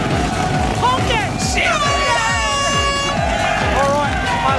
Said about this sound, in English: Sound the hooter.